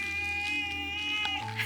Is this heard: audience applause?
no